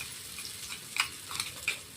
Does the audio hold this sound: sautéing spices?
yes